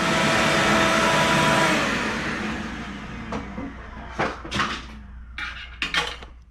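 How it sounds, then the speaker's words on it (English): Vacuum cleaner clearing debris from inside a car starter motor housing, a loud steady whine that winds down, followed by scattered clunks and knocks of handled metal parts. "I gotta vacuum that out."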